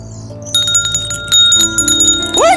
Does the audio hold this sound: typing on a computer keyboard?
no